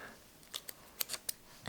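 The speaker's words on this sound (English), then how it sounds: "taking my handy dandy scissors, we're cutting" Handheld scissors cut paper for a plotting notebook: several crisp, close snips come in an uneven rhythm over a quiet room, followed by a louder rustle at the end.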